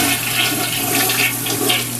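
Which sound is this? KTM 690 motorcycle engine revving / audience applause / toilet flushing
toilet flushing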